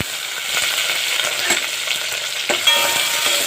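Onion and curry leaves fry in a pan for Mangalore cucumber sambhar, a loud continuous sizzle with occasional stirring knocks and scrapes.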